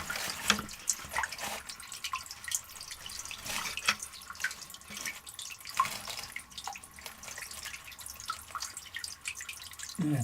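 Water dripping and trickling inside an abandoned coal mine near Lower Lick Run in Webster County, West Virginia, heard as scattered close drips over a steady running flow, with no voices.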